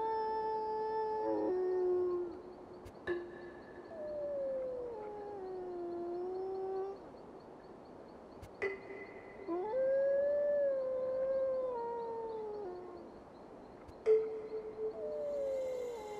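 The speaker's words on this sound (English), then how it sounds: "all wolves must howl" Several wolves howl in turn in the video game Tengami, long wavering tones rising and falling, with soft chime-like clicks between them and no talking.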